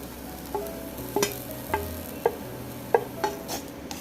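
Onion and curry leaves sizzling in a hot pan while making prawn chammanthi podi, a constant soft frying hiss broken by a string of sharp clinks and stirring taps at irregular intervals.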